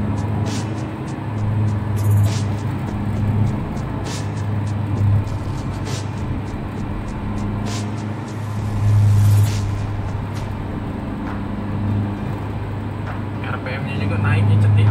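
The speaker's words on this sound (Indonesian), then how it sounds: "RPM-nya juga naiknya cepet ya." A tuned Daihatsu Terios with Blackcore tuning drives along, its engine droning and rising in revs from inside the cabin, with occupants talking over it.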